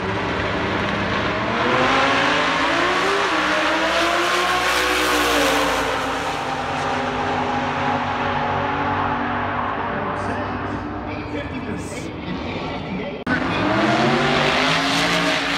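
Drag race cars, including a 1948 Chevy coupe and a Duster, roar loudly down the strip in a continuous, sustained engine blare with rising and falling pitch, a brief cut near the end before the noise resumes.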